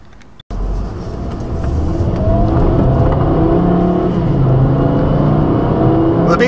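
After a brief gap, a Volkswagen Beetle convertible with a turbo engine pulls away and accelerates, its engine and road noise climbing steadily and holding loud and continuous from the cabin.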